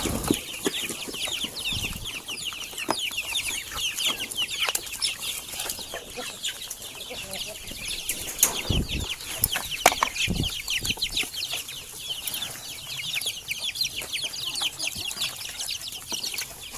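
Chickens and ducks feed on cheap rice bran mixed with husks and water, giving steady soft clucks, pecking and scratching, with occasional wing flaps, close by and continuous throughout.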